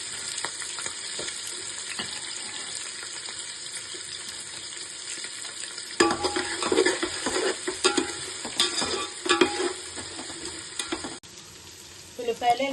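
Two medium-sized sliced onions frying in a pan for gongura chicken biryani, with a steady sizzle throughout that grows busier and louder with stirring partway through, close and alone with no talk.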